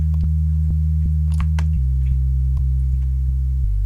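A pure sine-wave sub bass synth from FL Studio plays sustained low notes that step down in pitch, steady and clean, with faint clicks at the note changes and no voices.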